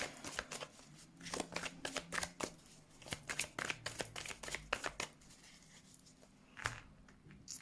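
A deck of tarot cards is shuffled in a quiet room, producing a quick series of soft riffling and slapping bursts that repeat irregularly throughout.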